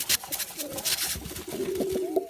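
Pet dove cooing at close range, soft low repeated coos and a rising call near the end, mixed with rustling and small handling sounds.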